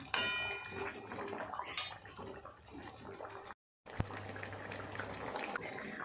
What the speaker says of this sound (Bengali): মাছ দেওয়ার পর আরও 4-5 মিনিট ফুটিয়ে নিয়েছি।